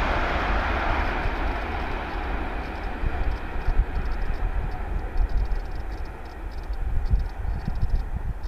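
A Class 801 train heading from London King's Cross to Glasgow Central rushes past a footpath level crossing near Colton Junction with a steady, broad roar and rumble that stays loud and close the whole time, punctuated by faint rhythmic wheel clatter.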